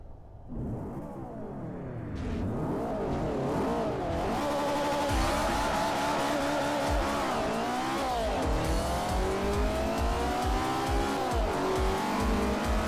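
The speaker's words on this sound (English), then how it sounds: "They already have a supercharger. That's what I can hear" Supercharged race car engine in Forza Motorsport 4 revving loudly and continuously, with rising and falling pitch through gear changes and brief tire squeal, heard close and alone.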